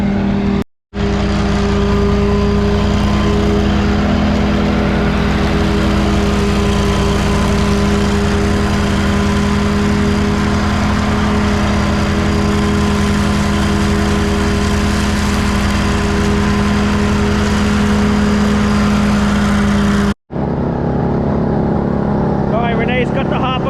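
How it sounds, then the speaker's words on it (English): Lawn vacuum machine pulverizing and sucking up leaves from a lawn, a loud, steady engine drone with deep rumble running nearly continuously, cut by two brief dropouts. "She's going to start vacuuming the lawn."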